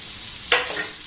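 Tomato and vegetables stirred in a frying pan for a vegetarian flour-and-potato snack, heard as a quiet sizzle that swells into one brief scraping stir at mid-clip, then settles back to a low hiss.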